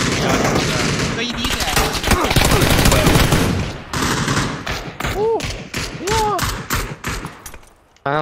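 Rapid gunfire in a shooter video game, loud dense bursts of automatic fire over several seconds, with short weapon sound effects near the end and voices talking underneath.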